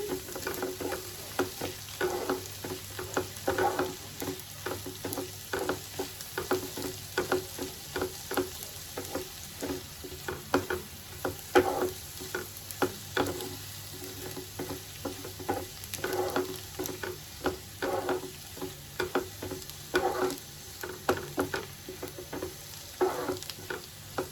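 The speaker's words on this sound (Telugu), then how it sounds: "పచ్చివాసన పోయేదాకా ఈ రెండింటిని కలుపుకుందాము." Ginger garlic paste fries with a steady sizzle in a pan while a spoon stirs it in quick, repeated scraping strokes. The sound is close and even throughout, with no talking.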